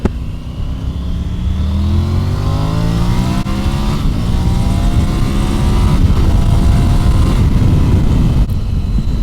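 A Triumph Tiger 900 Rally motorcycle accelerates up a motorway on-ramp, its engine note climbing steadily through the gears with rising harmonics over constant wind rush, loud and close throughout.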